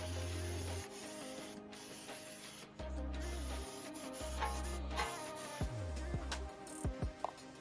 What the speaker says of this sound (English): So I'm just gonna spray some rust proofing under here while I'm at it